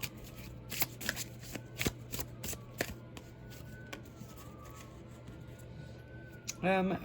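Oracle cards are shuffled by hand, giving a soft, continuous riffle of papery flicks and taps, close and fairly quiet, with a low background hum.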